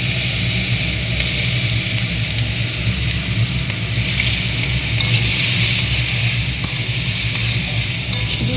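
Onions sizzling with black cumin seeds in a frying pan, a loud, steady hiss of frying oil with occasional stirring scrapes, continuous and close, with no talking.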